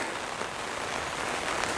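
Rain falls steadily outdoors in Sabanilla, San José, Costa Rica, a dense, even hiss of drops pattering on surfaces nearby without any break.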